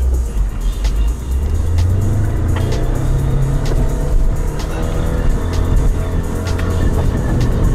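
A Lada Niva's engine roars continuously in low-range second gear as the car ploughs through deep snow: a loud, close rumble that swells with revs, mixed with scraping and clunking noises.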